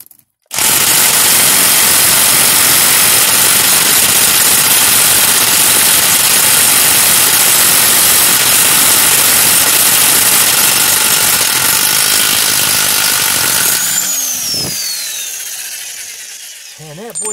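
A loud, sustained mechanical whir of an impact wrench on a rusty, stuck rear axle nut of a BMW E61 runs for over ten seconds, close up, then winds down and fades out.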